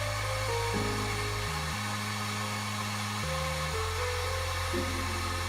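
A dryer blows a steady, loud whooshing roar to force-dry VMS No-Peel primer on a scale model, its motor tone shifting pitch in stepped changes as the airflow is adjusted.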